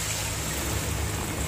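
Water from a rinsed mixer jar poured into a pot of frying masala, a brief, steady splashing gush heard close up.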